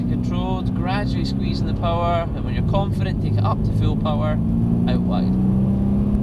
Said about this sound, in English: when you're confident, take it up to full power